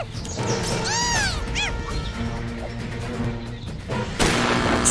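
Gunfire in the video game Naughty Bear, a sharp burst followed by game sound effects with whooping, sweeping tones and a second loud hit near the end, fairly loud and without talk.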